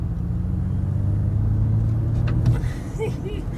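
Ford Mustang Mach-E electric SUV from 2021 pulling away on throttle along a street, a steady low drive hum and road rumble that rises in tone and then eases, with people talking over it near the end.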